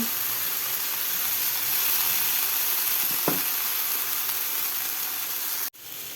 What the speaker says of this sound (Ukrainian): На розігрітій пательні підсмажуємо цибульку та картоплю підсмажуємо не до готовності.